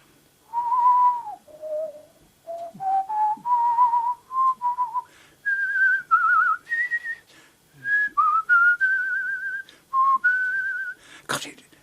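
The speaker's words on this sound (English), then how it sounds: "And she began to whistle." An old woman whistles a tune alone, a clear, vigorous melody close by, with sliding notes in short phrases and brief pauses, ending with a sharp click.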